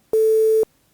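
A sine tone quantized to only 16 levels sounds as a loud, steady buzzy beep lasting about half a second, its pure pitch roughened by a gritty overtone haze, alone in silence.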